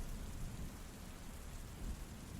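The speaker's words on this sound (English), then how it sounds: "Thunder rumbled in the distance, and rain pelted the metal roof and windows with a relentless rhythm." Heavy rain pelting a metal roof and windows in a dense, constant wash, with a deep rumble of thunder rolling underneath, no voices.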